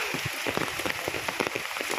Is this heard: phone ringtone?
no